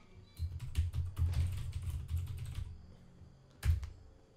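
Loud, clacky computer keyboard in a DOS-style layout, a fast burst of sharp key clicks for a few seconds, then a pause and a final quick cluster of keystrokes, close up with no talking.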